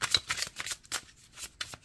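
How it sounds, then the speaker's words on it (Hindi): Tarot cards are shuffled and drawn by hand in a quick run of soft, papery riffles and flicks, close and fairly quiet, with brief pauses between bursts and no talking. "लास्ट 3 कार्ड निकालेंगे"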